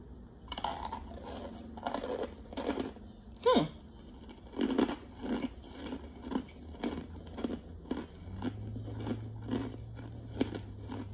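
Someone chews a crunchy lemon-flavored snack right at the mic, a steady run of sharp crunching bites that go on for several seconds.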